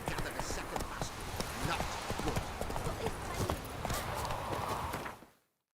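Roach, the horse in The Witcher 3, gallops in a fast, steady run of close, crisp hoofbeats that fades out at the end, with a speaking voice over it.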